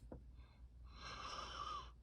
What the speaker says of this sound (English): I just yawned there